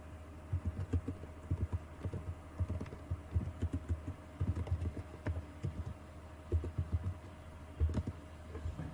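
Fingers tap on a computer keyboard in quick, uneven bursts of soft clacks with brief pauses between words, close and fairly quiet over a faint steady hum, with no voices.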